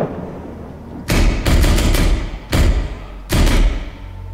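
Loud bursts of automatic gunfire in the video game Middle East Simulator, several rapid volleys of close shots separated by short pauses, with no talking.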